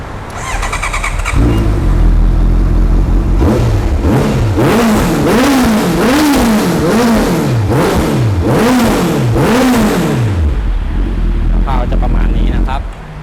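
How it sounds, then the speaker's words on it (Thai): A 2017 Honda CBR650F motorcycle engine with an aftermarket Akrapovic-style exhaust starts and revs repeatedly, its loud, throaty exhaust rising and falling in a series of blips before settling back to idle. "เดี๋ยวลองฟังเสียงเครื่องยนต์กันดูนะครับ"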